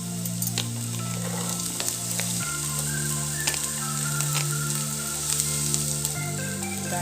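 Onion and capsicum frying together in a pan for an egg pizza sandwich, a steady moderate sizzle with a few sharper crackles and light stirring, heard alongside a soft musical background.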